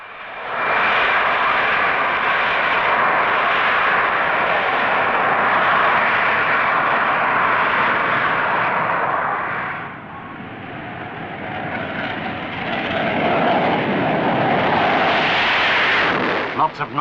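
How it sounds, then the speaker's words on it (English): A Sukhoi fighter bomber roars loudly and continuously during a rocket-assisted takeoff, a dense, thundering blast that dips briefly before surging again, with no talking. "Lots of noise from the rocket-assisted takeoff of this Sukhoi fighter bomber."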